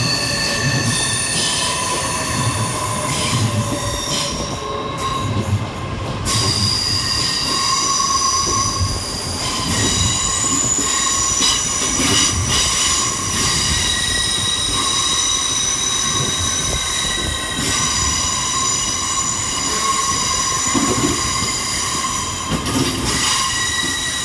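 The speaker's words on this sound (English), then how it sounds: "Next up arriving to terminate with a Great Western Railway service off of Bristol Temple Meads is 802" A Great Western Railway class 802 train from Bristol Temple Meads pulls into London Paddington, its wheels squealing in a continuous metallic screech over a steady rumble of rolling stock, loud and sustained throughout.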